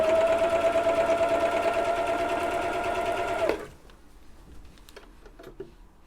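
An old Husqvarna sewing machine runs loud and steady for a few seconds, then stops abruptly, leaving only faint handling clicks and small rustles.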